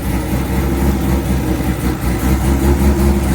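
Modified 1999 C5 Corvette with head, cam, intake, exhaust, nitrous and a C6 Z06 drivetrain idling loud and close, a deep lumpy rumble that pulses steadily without talk.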